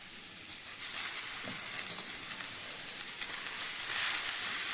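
Fenugreek leaves hit a hot pan with coriander, crushed peanuts, moong dal and salt, giving a steady, loud, bright sizzle and hiss that holds for several seconds with faint stirring, no voices.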